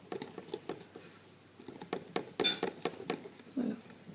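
Flour, cornstarch and baking powder are whisked in a bowl, giving an uneven series of light clinks and taps against the bowl with short pauses between strokes, close up and fairly quiet.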